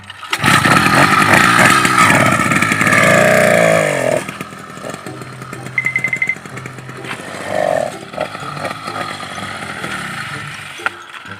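A motorized bicycle engine fitted with a stainless exhaust tip rasps loud and close while riding, revving high then dropping to a lower buzzing idle with brief surges, no talk over it.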